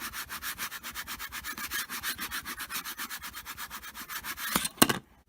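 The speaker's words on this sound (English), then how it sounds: "I'm going to give it a good old rub just to make sure it sticks really well" Self-adhesive vinyl being burnished onto a notebook cover by hand, a steady, close, rhythmic back-and-forth rubbing of about fifty strokes that ends with a couple of brief knocks.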